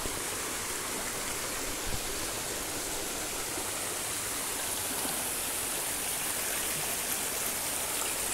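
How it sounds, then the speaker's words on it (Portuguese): Waterfall and stream in the Bahia backcountry near Tanque Novo, Brazil, a dense, steady roar of rushing water, close and constant throughout with no break. "aqui nessa cachoeira, esse riacho"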